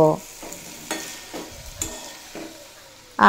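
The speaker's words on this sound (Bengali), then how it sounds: "সেই ভাজা মশলা দিয়ে 1 মিনিট মতো নাড়াচাড়া করে নেব" Shredded cabbage tossed with a roasted spice mix fries in a pan, with about half a dozen rhythmic scraping strokes of a spatula over a constant close sizzle.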